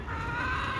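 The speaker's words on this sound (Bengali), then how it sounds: "দেশি মুরগি" Native desi chickens cluck close by in a short, steady burst, the sound filling the whole moment without any talking.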